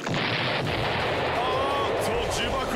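Cartoon bomb blast in an animated comedy race scene, a loud, sustained roaring explosion filling the whole stretch with dense rumbling noise.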